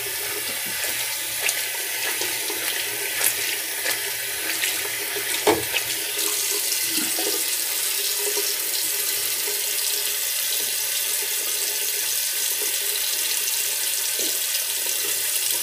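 Water runs steadily from a tap into a sink for a rinse, a constant hissing splash with a few brief clunks and knocks near the start.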